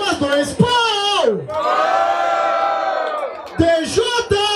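A crowd at a hip hop rap battle semifinal roars, cheers and shouts in a loud sustained burst, while an announcer's voice comes through at the start and end.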